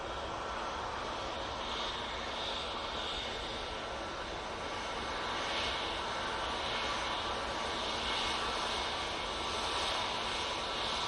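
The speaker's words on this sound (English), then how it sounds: "A320neo coming on right in front of us now" Airbus A320neo jet airliner taxiing past at an airport, a steady broad engine roar with a faint whine, moderately distant and unbroken throughout, with no voices.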